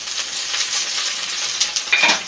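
Onions frying in a pan with ginger-garlic paste just added for a lentil-fritter curry, a steady close sizzle with light stirring scrapes and a few brief clinks near the end, no talking.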